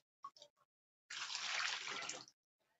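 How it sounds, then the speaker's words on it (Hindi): Water is poured into a small tub for growing azolla, a soft rushing splash lasting just over a second, faint and alone after a few brief clicks. "थोड़ा सा पानी और डालना पड़ेगा"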